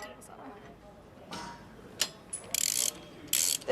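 A torque tool tightens bolts during McLaren supercar assembly, giving quick ratcheting clicks in short bursts near the microphone, with someone talking underneath.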